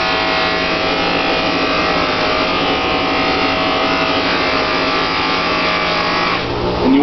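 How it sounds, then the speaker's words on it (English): A buffing wheel spins against a knife blade pressed firmly on it, producing a continuous loud steady whirring grind that holds throughout and shifts slightly near the end. "Take a firm grip on the blade. Just a pretty good amount of pressure on the wheel."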